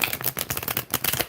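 A Neon Moon card deck is shuffled up close, giving a dense, rapid run of papery flicks and riffles that lasts just over a second.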